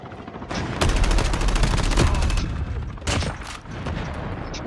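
Rapid automatic gunfire in a Call of Duty online match comes as dense bursts of close, loud shots, with a couple of separate volleys and sharp single cracks in between, over steady game noise.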